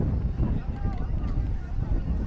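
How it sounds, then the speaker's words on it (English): Strong wind gusting and buffeting the microphone at an outdoor Honda motorcycle festival in Guatemala, a continuous loud rumble with people talking faintly underneath. "It's getting very windy and very dangerous because tents are flying everywhere."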